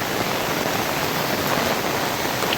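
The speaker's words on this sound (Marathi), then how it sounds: "पुढे एक धबधबा आहे" A waterfall pours in a steady, dense roar, loud and close, an unbroken hiss-like rush of falling water that cuts off abruptly at the end.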